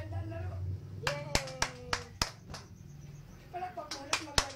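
A child claps hands in a series of sharp, close single claps with irregular pauses, while a voice and other indoor talk murmur underneath.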